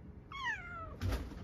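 A cat gives one short, fairly faint meow outdoors during a rainy storm in the mountains, followed by a brief rustling noise, with no talk over it.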